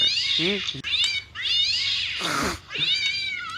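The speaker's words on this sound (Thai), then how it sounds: "แมวจากไหนมาร้องลั่นแถวนี้ เบื่อจริงไอเสียงอย่างนี้" A cat meows loudly several times in long, drawn-out wails, close by, with brief gaps between calls.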